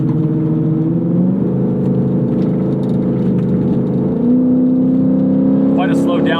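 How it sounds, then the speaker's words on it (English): A 2009 Lexus IS F with its V8 engine on a race track, droning steadily under load, then the revs shift in tone during a slow downshift, heard from inside the car. "Quite a slow downshift there."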